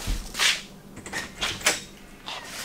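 A shop door being opened in a cluttered workshop full of boxes, giving a few soft scraping and rattling movements over a steady background hum.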